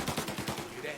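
Gunfire in the Mafia video game, a quick rhythmic burst of about five rapid shots at moderate volume, followed by a fainter tail.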